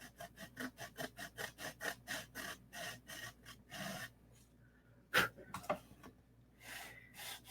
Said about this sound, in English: Now the cowl opening we'll true up with a small sanding block